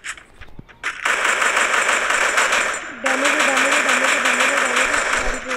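Sustained rapid automatic gunfire in an online shooter game, a steady rattling burst that runs almost continuously, with a second weapon's tone joining partway through, loud and close.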